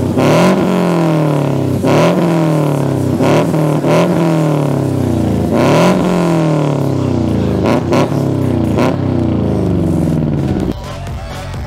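A loud custom cannon-style exhaust on a 1999 Subaru Impreza GC8 non-turbo revs repeatedly, each blip rising and falling in sharp, barking bursts, close and continuous.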